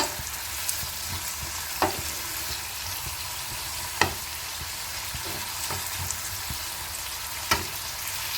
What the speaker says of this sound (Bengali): নুন দিয়ে ভালো করে নেড়ে চেড়ে নিতে হবে।